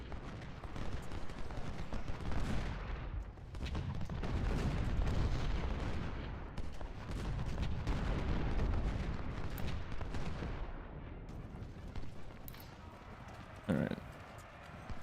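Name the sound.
gunfire from troops in the video game Ultimate General: Civil War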